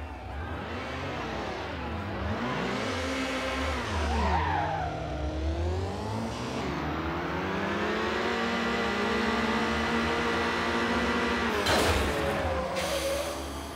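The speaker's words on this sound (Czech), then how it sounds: "Když se podobně jako Radek Friedrich nenaučíte manuálně řadit, odpálíte motor už po pár sekundách drag raceu." Car engines revving hard in a drag race in the video game Need for Speed Underground, with rising and falling engine pitch as gears shift, tire squeal and skidding, loud and continuous without talk.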